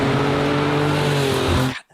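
A Porsche 911 Carrera RS with a 2.7-liter flat-six engine roars loudly and steadily up close, a sustained engine note that cuts off abruptly near the end.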